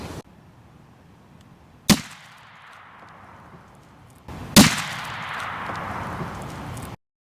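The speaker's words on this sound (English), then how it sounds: "I'm going to fire a second shot to try to hit bone to keep it on par with the other 2 cartridges" Two 45-70 rifle shots fired into ballistic gel, the second striking bone: two sharp loud cracks a few seconds apart, each followed by a lingering outdoor rumble and echo.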